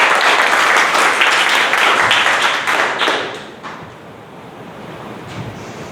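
A Toastmasters club audience gives a contestant at a table-topics speaking contest a loud, dense round of applause that lasts about three seconds, then thins out and fades to a quiet room.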